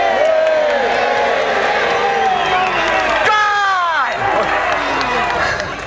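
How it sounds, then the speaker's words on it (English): A large crowd of spectators cheers and whoops continuously for the Scottish king at a Bannockburn battle re-enactment, with loud sustained shouting and rising voices filling the space. "The Scots cheer in admiration of the king."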